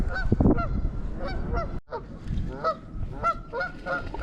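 Several geese honking nearby, repeated harsh calls overlapping in quick succession, loud and close.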